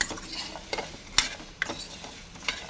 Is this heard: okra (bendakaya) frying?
yes